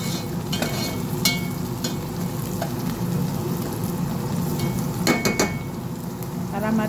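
Chopped onion sautéing in a pan for a Filipino chicken apritada, a steady rain-like sizzle with a few sharp utensil clinks against the pan scattered through it, no voices.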